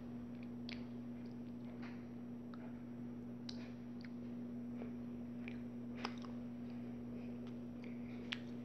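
Someone chews a small planet-shaped jelly candy bean close to the mic, soft sticky bites and faint clicks scattered over a steady electrical hum, with no talking.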